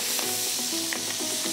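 Abalone fries in butter in a pan, a close, dense sizzle with soft stirring and spoon scrapes mixed in, and no voices.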